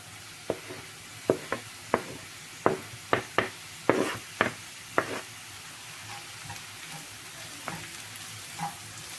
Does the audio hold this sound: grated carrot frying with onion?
yes